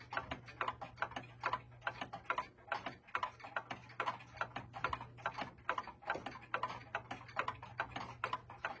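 Several clocks tick together near midnight, a dense steady mix of overlapping ticks with a faint constant hum beneath.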